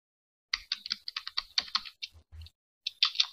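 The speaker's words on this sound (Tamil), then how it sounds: "இப்போ நான் டைப் பண்ணி காட்டுறேன்" Someone types on a computer keyboard, a quick run of crisp, close keystroke clicks, then a short pause and a few more taps.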